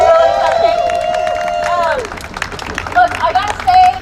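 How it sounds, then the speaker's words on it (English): Demonstration crowd in DC applauding and cheering after a song, dense clapping with shouts and whistles rising toward the end; a singing or speaking voice with clear harmonics carries over the first two seconds. "give her a round of applause"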